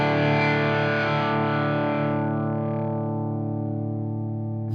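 Electric guitar run through an Arturia FX Collection 2 filter for a wah-like sweep: one distorted sustained chord whose bright upper edge gradually closes down as it rings, leaving a darker, steady drone, loud and close with no voices.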